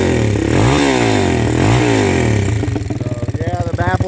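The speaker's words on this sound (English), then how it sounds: "Revs out good." A Kawasaki KFX400 ATV engine, running with its exhaust baffle removed, revs up and down in rising and falling sweeps, then breaks into a rapid, choppy, uneven idle-like burble, loud and close.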